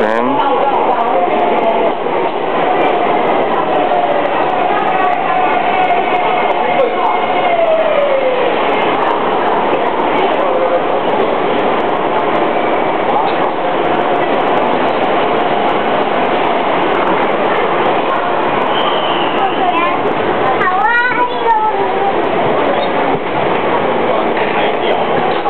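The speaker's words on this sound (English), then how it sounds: "Here comes the Taipei MRT train." Taipei MRT metro train pulling into a station, a steady loud rumble of wheels and motors with squealing tones and a clattering passage near the end, while people talk over it.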